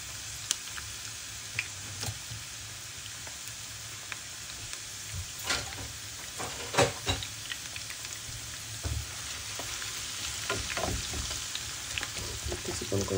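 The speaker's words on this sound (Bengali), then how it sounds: "পেঁয়াজগুলো একটু বেরেস্তা করে নিচ্ছি" Onions frying to golden brown for tehari, a steady sizzle like rain across the whole stretch, with occasional louder crackles and pops standing out near the middle.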